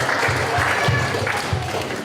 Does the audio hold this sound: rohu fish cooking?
no